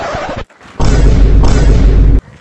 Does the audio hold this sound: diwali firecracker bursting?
yes